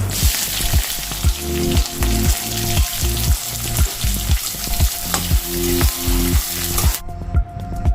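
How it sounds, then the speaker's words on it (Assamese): Whole cumin and black cumin seeds with onions fry loudly in hot oil, a steady sizzle broken by regular scraping stirring strokes that stop abruptly near the end. "আৰু এতিয়া মই তেলতে দি দিম কেইটামান গোটা জিৰা আৰু ক'লা জিৰা তাৰপাছত দি দিছোঁ পিঁয়াজখিনি"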